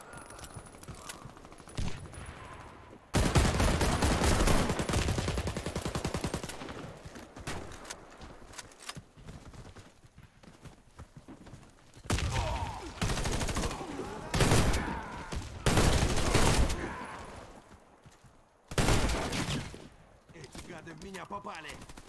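Warface combat gunfire comes in several long, loud automatic bursts separated by quieter stretches, with a voice speaking between the volleys.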